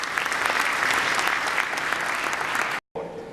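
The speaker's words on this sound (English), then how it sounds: "if we can please give a round of applause to Mr." Audience applause for Rex Tillerson at an international energy dialogue forum in Riyadh: a dense, steady wash of many hands clapping, loud and sustained, then cut off abruptly near the end, with a softer tail resuming afterwards.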